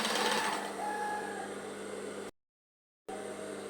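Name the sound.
sewing machine stitching a scrub neckline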